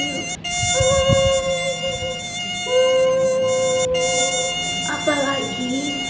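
A mosquito's buzz in a told Indonesian folk story about how the mosquito came to buzz: sustained, whining harmonic tones that shift pitch, fairly loud, with brief breaks over several seconds.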